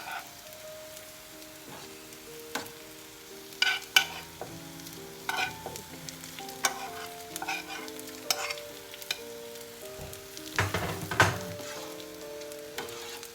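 Cabbage tipped into a pot of cooking potatoes and stirred, with soft scraping and stirring knocks over a gentle sizzle, close and intermittent, louder bursts near the end.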